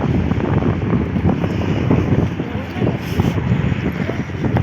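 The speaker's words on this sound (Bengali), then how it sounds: "আর অনেক বাতাস এখানে" Strong, cold wind gusting outdoors in an open rural spot, a steady broadband rush buffeting the microphone throughout, with some voices faintly mixed underneath.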